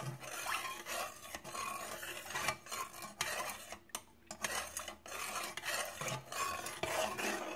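A homemade liquid hand soap mixture is stirred in a container, giving a continuous close scraping and swishing with rhythmic strokes of the utensil against the sides, quiet and without talk.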